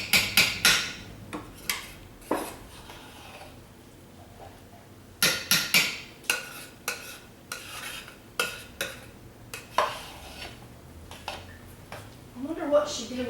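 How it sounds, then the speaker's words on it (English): Homemade soap mixture being stirred by hand, with a series of sharp, irregular clinks and scrapes of the utensil against the pot, loud and close, spaced through a quiet room. "You just keep stirring."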